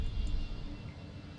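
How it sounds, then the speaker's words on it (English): A jet airplane taking off in the city-building game The Universim, a steady low roaring rumble, moderately loud and continuous without talk. "Jet's taking off right now."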